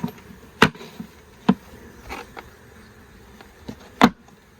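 Honey bees buzzing during installation of a nucleus colony into a hive, a low hum under sharp knocks and thumps as frames are handled and bees are bounced off, close by without talk.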